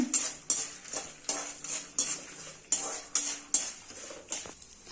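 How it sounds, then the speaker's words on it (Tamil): A metal spoon scrapes and clinks against a pan in a steady stirring rhythm, over a soft sizzle of lentils frying in oil. "இதெல்லாம் நான் கொஞ்சம் வறுத்துக்கிறேன்"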